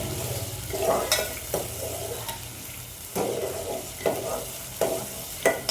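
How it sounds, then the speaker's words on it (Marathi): Watan spice paste for soybean rassa fries in a pan. It gives a steady close sizzle, broken by repeated sharp scrapes and knocks from stirring. "वाटण छान परतून घ्यायचं."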